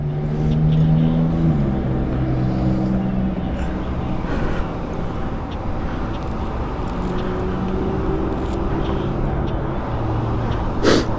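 A Lamborghini Aventador's engine rumbles loudly and steadily nearby as the car pulls away, with the pitch shifting as it moves off, heard alone without talking.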